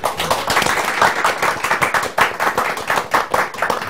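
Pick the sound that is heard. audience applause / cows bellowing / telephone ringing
audience applause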